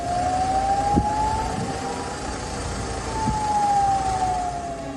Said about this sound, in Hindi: इन सायरनों की गूंज इजराइल की राजधानी तेल अवीव तक सुनाई दी।